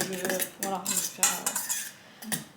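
Close-up clinking and scraping of a utensil against a bowl in quick irregular strokes, stirring batter by hand, with no talking.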